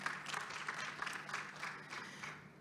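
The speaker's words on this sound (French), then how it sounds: "Et je les applaudis très fort" Scattered applause from an audience at a panel event on financial payments, faint and somewhat distant, with irregular claps rising and fading over a few seconds.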